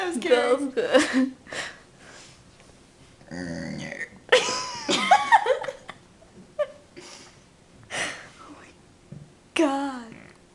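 Burping at 3 a.m. at home: several separate belches, close and fairly loud, scattered among whispering and hushed voices, with quiet pauses between them.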